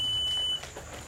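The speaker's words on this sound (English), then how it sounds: "Oh, we just set the alarm off." A short electronic alarm tone at a 5K race finish line sounds steadily for about half a second, then cuts off, leaving quiet outdoor background.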